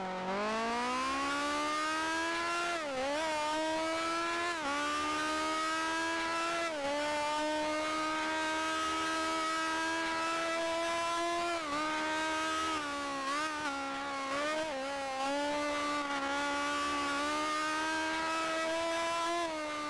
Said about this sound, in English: Yeah, the fuel going down, the engine is losing power.